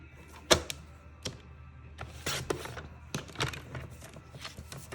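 Cardstock in the Pretty Peacock colour is cut on a paper trimmer, giving sharp clicks, slicing swipes and light handling noises. The sounds are scattered and irregular, close by and fairly quiet.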